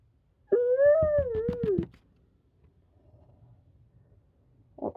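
A canine yelping and whimpering, likely a wolf, in a drama scene: one close, loud, wavering whine with a rapid pulsed yelp, then quiet rustle and a brief sound at the end.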